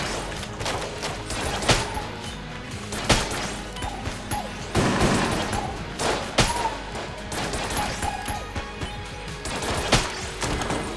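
Heavy gunfire from oversized bullets in the dungeon-crawler shooter Enter the Gungeon, with a dense, continuous barrage of shots, crashes and impacts and several louder punctuating blasts, all close and busy with no talk.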